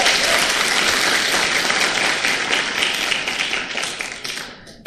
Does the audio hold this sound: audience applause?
yes